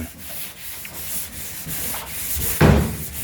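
Paint on a 1938 SS Jaguar 3½ drophead body is flatted by hand in a workshop, producing a steady rhythmic rubbing hiss that ends in a louder scraping stroke.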